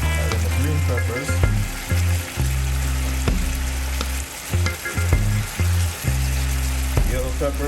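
Red, green and yellow bell peppers sizzle steadily in a hot pan with a Scotch bonnet, loud and close, broken by a few stirring scrapes and clinks.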